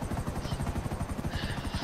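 Helicopter in GTA V Online, a steady close rotor thump with a rapid pulsing beat and a loud engine drone throughout, with no voices.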